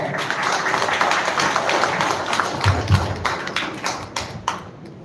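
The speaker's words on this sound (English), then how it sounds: "A big hand of applause" Audience applause at a techno-commercial seminar session, a dense wash of many hands clapping steadily for about five seconds, moderately loud with a few heavier thuds, no talk over it.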